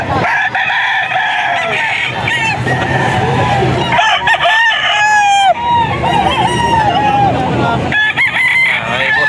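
A Sweater line gamefowl rooster crows loudly and close at a Bocaue breeder farm, several repeated cock-a-doodle-doo calls overlapping with other clucking birds in a busy, noisy yard.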